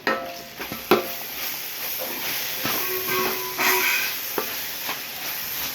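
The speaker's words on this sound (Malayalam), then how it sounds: "നമ്മുടെ ഈ സവാള കരയുന്ന സൗണ്ട് ഉണ്ടല്ലോ, ആ ശൂശു സൗണ്ട് മാറണം." Sliced onions sizzling in a covered pan over high heat, a continuous loud hiss of steam with scattered sharp crackles and pops throughout, no talking.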